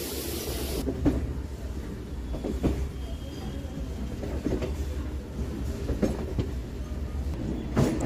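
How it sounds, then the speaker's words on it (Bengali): A passenger train enters the Sealdah South main line near Kolkata, a continuous close rumble with repeated clacks and thumps from wheels over rail joints. "এখান থেকেই আমাদের ট্রেন ঢুকছে শিয়ালদাহ সাউথের মেন লাইনে।"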